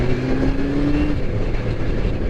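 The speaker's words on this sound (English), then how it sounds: "Oh yeah, I've got a new bike, ZZR1400." A Kawasaki ZZR1400 motorcycle engine hums in a loud, steady drone with a brief rising whine near the start, heard up close on a ride with wind-like rumble and no talking.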